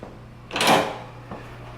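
The deadbolt of a vintage hotel room door in New Orleans makes a single loud metallic clack near the middle, followed by a softer click a moment later in a quiet room.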